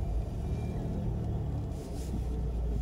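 A car approaches along a narrow road near a castle, heard as a steady, fairly loud low engine rumble with a light rise in hiss toward the end.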